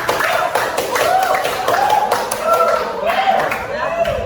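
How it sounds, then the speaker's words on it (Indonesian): Students in a vocational machining class clap in a fairly rhythmic, somewhat uneven pattern for a student group, with voices talking and calling over the claps throughout. "Oke, tepuk tangan dong"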